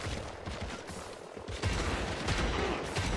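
Loud, rapid shotgun fire in the video game The Amazing Eternals bursts in quick succession, dense and close, with heavier blasts in the second half.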